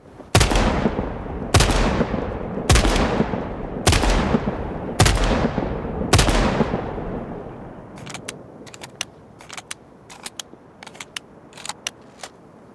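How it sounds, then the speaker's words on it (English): Gunfire in Sniper Ghost Warrior Contracts 2: six heavy, evenly spaced shotgun booms with long ringing tails, followed by a quicker scatter of sharp, lighter gunshots, loud and up close. "As for the shotguns, they all create incredibly menacing booms"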